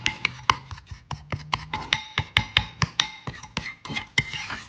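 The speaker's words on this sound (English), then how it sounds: "we're just going to mix that up, and that is our topping" Brown sugar meat loaf topping is mixed in a bowl with a little red wine vinegar. A spoon clinks and scrapes against the bowl in a steady rhythm of sharp, close taps, with no talking.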